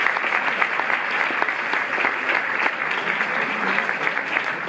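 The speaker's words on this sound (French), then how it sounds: "je propose que vous vous applaudissiez tous" Cinema audience of about 300 at a Paris film premiere applauding steadily, a dense, even wash of many hands clapping close and loud without pause.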